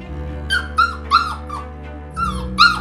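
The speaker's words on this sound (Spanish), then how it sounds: "¿Por qué ladras?" A dog barks and yips in a home, several sharp, close, loud barks in an uneven rhythm over about three seconds, with no talk.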